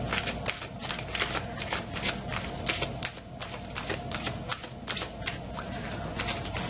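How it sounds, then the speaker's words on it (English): Tarot cards being shuffled up close, a steady dense riffling and sliding of card stock that runs without a break for several seconds. "I want to draw a few cards before I start talking about them"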